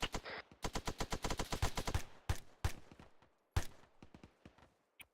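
Mortar and rapid gunfire in Arma 3 crack out in a fast, dense string of sharp shots through the first two seconds, then a few spaced heavier blasts follow with decaying tails and quiet gaps.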